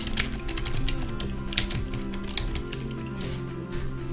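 Rapid typing on a computer keyboard, with steady, irregular key clicks close to the microphone over a continuous low electronic hum, without speech.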